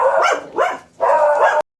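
Several dogs in a very tiny kitchen bark in quick bursts, close and loud, with a brief pause between barking spells before the sound cuts off abruptly.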